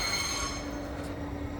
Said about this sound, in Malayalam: അതിമനോഹരമായൊരു ട്രെയിൻ